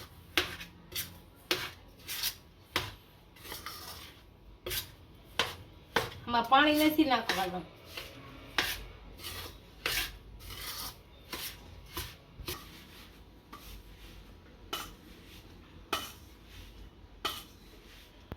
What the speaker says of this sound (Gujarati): આને બધાને સારી રીતનું મિક્સ કરી અને હલાવી નાખશું।